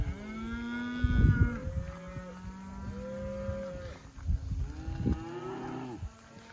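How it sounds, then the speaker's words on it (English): Cattle being walked down a road during a drought-time cattle drive moo in several long, drawn-out calls, some overlapping, close and clear with shuffling noise between them. "this is a really powerful tool to be able to walk your cattle down the road like this."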